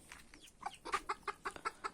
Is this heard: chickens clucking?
yes